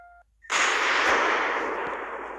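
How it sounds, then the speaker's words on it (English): A nuclear strobe firework goes off after a brief tone, bursting into a loud, sustained hissing crackle that fades only slightly over two seconds. "That is a nuclear strobe. That is an actual firework."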